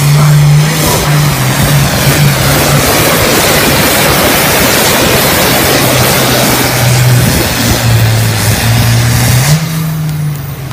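A tractor engine roars loud and steady at a pull event, its low drone holding strong the whole way with slight shifts in pitch and no talk over it.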